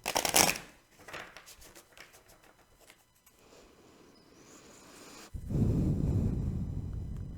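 Tarot cards being shuffled by hand: a quick burst of riffling and flicking, then softer card sliding and handling, ending in a louder, sustained rustling shuffle close by, with no talking.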